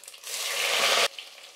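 A sudden loud sizzle as garlic, chopped small onions and curry leaves hit hot oil, hissing steadily for about a second before dropping to a quieter crackle.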